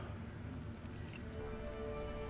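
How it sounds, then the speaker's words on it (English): Rain cast as a spell in the game Divinity Original Sin falls as a steady, even patter of drops, close and continuous with no voices. "let's get a little bit of rain on the job here, shall we? From drizzle to deluge."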